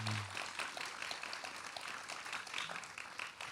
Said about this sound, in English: So another round of applause for Kathleen.